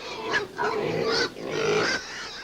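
Pigs grunt and oink in a few rough, close bursts, fairly quiet overall with no talking over them.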